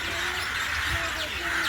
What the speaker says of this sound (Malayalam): അപ്പോൾ നമ്മളിങ്ങനെ കുറേ കിളികൾ കരയണ ഒച്ച ഇതൊക്കെ കേൾക്കുന്നുണ്ട്